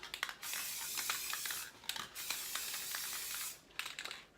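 Aerosol spray paint hissing onto an abstract painting in short and long bursts, a brief puff, a long steady spray, then a final short burst after a pause, close and fairly quiet with no talking.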